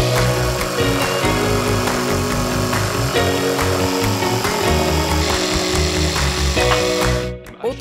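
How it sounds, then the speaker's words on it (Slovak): A jigsaw cutting a wooden board runs steadily and loudly for several seconds, its buzzing pitch wavering as it bites through the wood, then cuts off abruptly near the end. "Na oboch stranách označím hĺbku a vypílim ju priamočiarou pílou."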